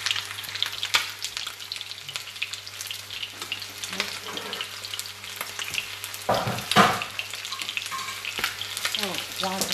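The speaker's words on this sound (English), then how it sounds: "So while the chicken are frying" Chicken pieces fry in a crowded pan on moderate heat for Vietnamese sticky chicken, a steady close sizzle with crackles and a few stirring scrapes and clatters.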